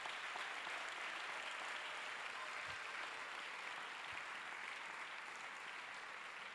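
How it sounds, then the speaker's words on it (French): A church congregation claps during a worship and praise service, the applause dense, even and sustained throughout, heard from within the crowd. "Let's clap. Acclamez plus fort que ça."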